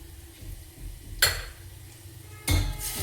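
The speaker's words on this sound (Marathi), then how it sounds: "ते ठेचलेलं अद्रक लसण टाकत आहे याच्यात." Crushed ginger and garlic drop into hot oil in a pan while cooking a Nagpuri Saoji-style brinjal dal, giving two sharp sizzling bursts over a low background of kitchen clatter and stirring.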